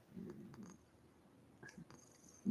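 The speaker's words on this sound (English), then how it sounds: "That's a good kitty cat" Pet cat purring close to the microphone in a home, a soft rumbling burst at the start and again at the end, with quiet room noise between.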